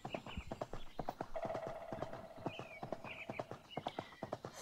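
Horse in the video game Horse World 3D: a steady run of hoof clip-clops, with a drawn-out neigh rising over the hoofbeats partway through. Fairly faint and alone.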